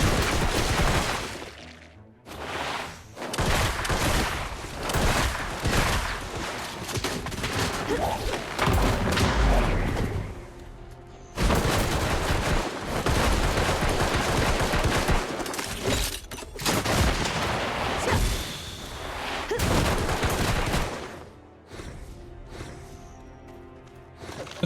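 Explosions and heavy gunfire from the Deadeye class in the video game Black Desert, dense rapid volleys and booming blasts filling most of the stretch, loud and close, broken by a couple of brief gaps.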